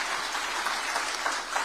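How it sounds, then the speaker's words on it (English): Steady applause from a crowd at an Africa summit in Kenya, dense and continuous clapping with nothing rising above it. "Another round of applause."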